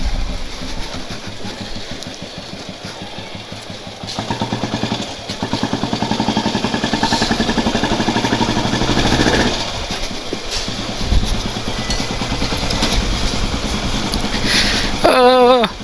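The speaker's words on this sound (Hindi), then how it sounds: "बट यार हाफ किक हमारी बुलेट स्टार्ट हो गई।" A 60-year-old Royal Enfield Bullet single-cylinder engine runs close up with a steady, thumping, slightly uneven beat, rising in loudness partway through and clattering mechanically throughout.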